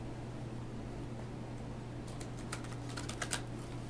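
Crisp clusters of papery flicks and taps as tarot cards are shuffled close by, starting midway over a steady low hum.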